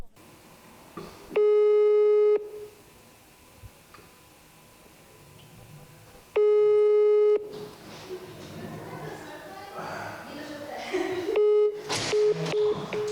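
A telephone busy signal sounds in three loud, steady tone bursts about five seconds apart, with quieter clicks and background noise between them and a voice near the end.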